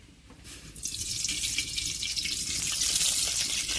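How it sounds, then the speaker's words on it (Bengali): Oil pouring into a kadai pan, a soft steady stream of liquid that starts after a brief pause and grows slightly louder as it continues, close and alone. "এবার কড়া তেল দিয়ে দিচ্ছি"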